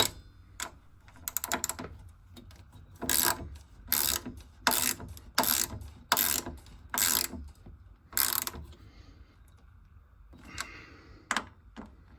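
A ratchet wrench clicks in repeated short bursts while tightening nuts on a boiler burner plate, close and fairly crisp, with pauses between the strokes and no talking.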